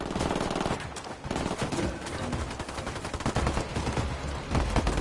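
Intense gunfire in Ghost Recon Wildlands, with loud, sustained automatic bursts and overlapping shots filling the whole stretch without a pause.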